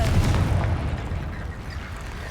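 Confringo fire spell blast in the video game Hogwarts Legacy, a loud booming burst at the start that rumbles and fades over a couple of seconds with game ambience behind it.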